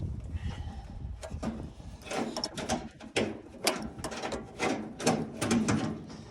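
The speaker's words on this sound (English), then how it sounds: "pull my little bitty toolbox out here, and I can unscrew that" A small hand tool works loose the ignition coil, a new 6-volt unit, on a 1940 Chevy truck, giving a series of close, irregular ratcheting clicks and metallic scrapes with short pauses between them.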